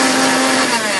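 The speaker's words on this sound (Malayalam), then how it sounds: "അതിലേക്ക് നമ്മള് ഇതെല്ലാം കൂടി ഒറ്റ പൊടിക്കല്" Mixer grinder whirring loudly and close, a steady high-pitched motor roar while grinding sugar and spices together for a homemade plum cake.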